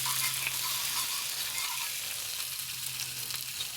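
Salmon and shrimp sizzle steadily on a recteq Matador griddle, a dense, even frying hiss that runs unbroken and fairly loud, with a low steady hum beneath and no talk.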